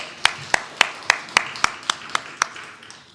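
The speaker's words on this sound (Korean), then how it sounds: "우리 축복의 박수 하도록 하겠습니다." A congregation at a New Year special dawn prayer service claps in blessing, giving about nine sharp, evenly spaced claps in unison against a quiet room.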